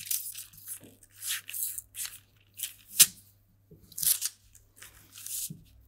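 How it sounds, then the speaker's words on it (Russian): Scissors cutting darts out of a paper pattern for a wide single-breasted jacket with short sleeves. Close, crisp cutting and crunching strokes come in irregular bursts with short pauses between them. "Вырезаю выточки."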